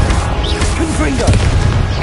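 Confringo blasting-spell explosions in Hogwarts Legacy during a troll titan boss fight: sharp booming bursts over a dense, continuous din of battle, with voices and spell calls mixed in throughout.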